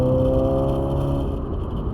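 A high-mileage Mk7 Volkswagen GTI engine holds a steady, loud idle-like drone with strong low harmonics, easing slightly toward the end, with no talk over it.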